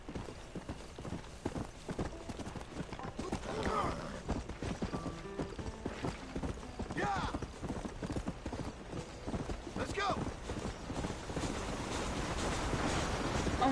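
Horse hooves clip-clopping steadily with occasional whinnies in a Red Dead Redemption game scene, continuous galloping rhythm under game ambience and a voice speaking.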